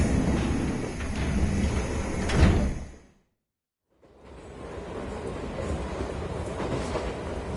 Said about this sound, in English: Hey, that's the wrong train!